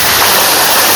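A hidden village waterfall gives off a dense, continuous rushing roar, close and loud, with no voices over it.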